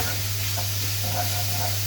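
Stuffed pepper filling with spices fries in a pan, a steady soft sizzle with a constant low hum and a few faint stirring scrapes, with no voices.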